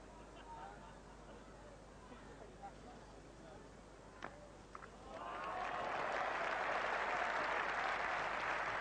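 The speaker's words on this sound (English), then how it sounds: "Applause round the ground as well." A cricket ground crowd at a 1987 England versus Pakistan Test match bursts into applause for a stroke, the clapping swelling from quiet murmur into a broad, sustained, distant roar.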